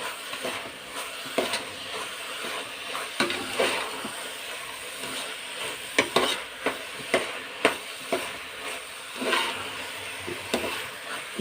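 Khoya frying in ghee in a pot of carrot halwa, with a soft steady sizzle broken by repeated scraping knocks from the stirring spoon, heard close and moderately quiet.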